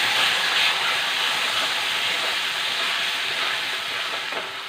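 Ground paste added to tomatoes in a pan for nadan rasam, a loud broad sizzle hissing steadily and close for the whole stretch, with no talking.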